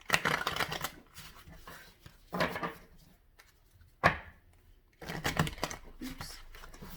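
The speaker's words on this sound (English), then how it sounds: "I'm going to shuffle these up a bit" Tarot cards shuffled by hand in bursts of quick papery riffling and slapping, separated by short pauses, close and fairly quiet.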